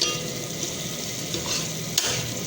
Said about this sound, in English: Mash the tomatoes like this.